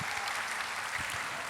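A church congregation applauds during a sermon, a steady, even wash of many hands clapping at moderate volume in a large hall.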